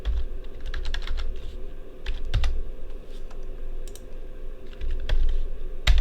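Someone types on a computer keyboard during 3D printer thermal runaway monitor testing, with close, irregular bursts of clicking keystrokes over a low background hum.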